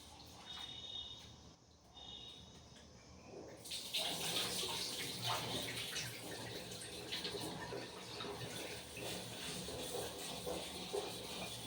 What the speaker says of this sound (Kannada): ಅಕ್ಕಿ ಎಲ್ಲ ಫಸ್ಟೇ 4 ಸಲ ತೊಳ್ಕೊಂಡಿದ್ದೀನಿ. ಇದನ್ನ ಹಾಕ್ಬಿಟ್ಟು 1 ಸಲ ತೊಳ್ಕೊತೀನಿ ಅಷ್ಟೇ.